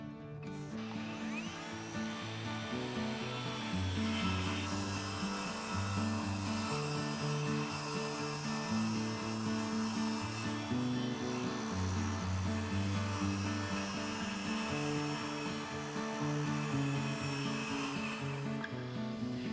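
A saw rips through MDF trim stock, a continuous grinding, buzzing cut that holds steady for nearly twenty seconds with slight shifts in pitch, close and loud, without talk.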